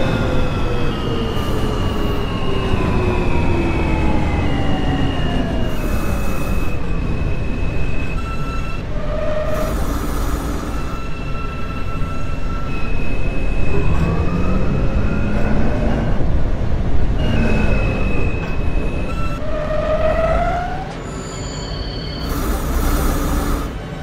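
An R160 E express subway train in the OpenBVE simulator runs through Queens toward Manhattan, with a loud, steady rumble, rising and falling motor whine and squealing wheels over rails, no talk.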